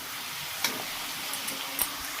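Papad frying in hot oil, a soft steady sizzle with a few faint clinks of stirring, no talk.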